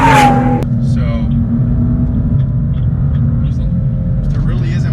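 Turbocharged BMW M2 engine accelerating, a steady loud low rumble that holds throughout after a brief higher opening burst, with faint talk-like traces over it.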